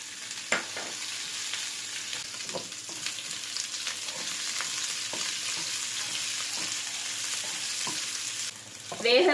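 Boiled spicy baby potatoes fry in a kadai, a steady close sizzle with repeated light stirring scrapes and a louder clatter at the end, no speech.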